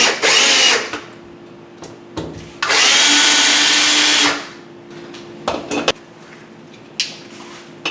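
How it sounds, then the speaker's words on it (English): A power drill runs screws into a ClosetMaid ShelfTrack installation in two loud whirring bursts, one short and one longer, with quieter clicks, brief trigger pulses and handling noise between them. "Take a power drill and run them down"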